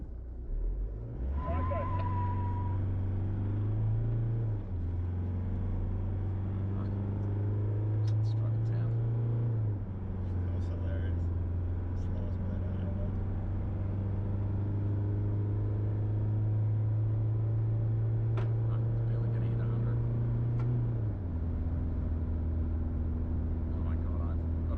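A pickup truck towing a trailer dyno strains toward 100 km/h, its engine droning through several long gear holds with drops in pitch between shifts, while someone speaks softly over the continuous road rumble.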